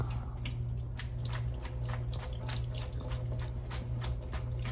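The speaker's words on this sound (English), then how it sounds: "I'm gonna run cold water over my pasta so it cools it down immediately" Cold tap water runs over strained pasta in a colander, a steady splashing stream with drips and a constant low hum beneath.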